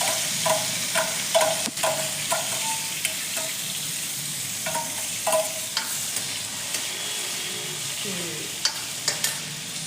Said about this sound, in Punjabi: ਆਪਾਂ ਹੁਣ ਪਾਉਣੀ ਇਹਦੇ ਵਿੱਚ ਇਹ ਮਿਰਚਾਂ ਕਿਉਂਕਿ ਆਪਣਾ ਜੀਰਾ ਫਰਾਈ ਹੋ ਗਿਆ